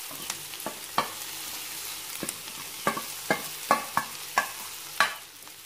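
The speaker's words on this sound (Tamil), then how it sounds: "போட்டு நல்லா வதக்கலாம்" Dried fish is sautéed with onions in a pan, a continuous frying sizzle broken by a series of sharp, near stirring scrapes and knocks.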